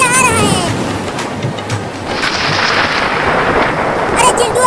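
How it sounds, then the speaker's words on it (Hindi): Steady rain hisses throughout while low thunder rumbles underneath, with faint voices briefly audible near the end. "देखो कितना बादल गरज रहा है"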